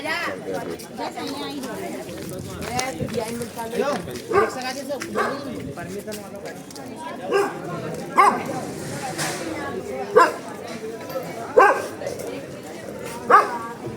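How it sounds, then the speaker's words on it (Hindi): A dog on a street barks repeatedly in short, sharp bursts at irregular intervals, fairly close, while a person talks over it throughout. "ये कुत्ता भी ना डरा रहा है मेरे को"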